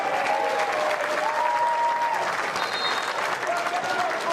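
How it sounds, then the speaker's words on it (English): A stadium crowd applauds at a women's A-League football match between Canberra United and Melbourne Victory, with steady, moderately loud clapping and a broad murmur throughout, and a faint voice now and then. "Big round of applause for Liz Anton, who is a fan favourite."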